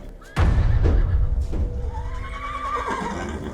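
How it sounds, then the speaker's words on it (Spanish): Terrified horses rear and whinny in panic, one long wavering neigh rising and falling over heavy thuds and a deep rumbling background, loud and close, with no talk. "Se encabritaron y relincharon y estuvieron a punto de romper las cercas."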